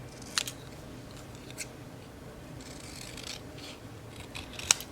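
Scissors snip through an old Christmas card in a quiet room, with a couple of sharp cuts near the start and end and soft rustling of card stock in between.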